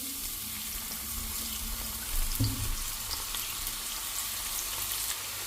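Oil sizzles steadily in a pan as onions fry, with a brief clatter of stirring partway through; no voices.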